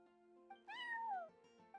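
A cat meows in the video game Genshin Impact, one drawn-out, rising then falling meow over soft background game music, fairly close and alone without talk.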